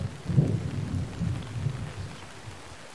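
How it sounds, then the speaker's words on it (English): Heavy rain in the video game ArmA 3 roars in a dense, low wash with rumbling undertones, steady and loud throughout, no voices. "The rain is pretty fucking loud"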